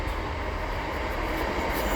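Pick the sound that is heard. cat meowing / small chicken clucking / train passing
train passing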